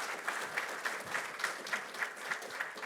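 Audience applause at a passenger rail summit, a steady patter of many hands clapping fairly close, continuous throughout with no talk over it.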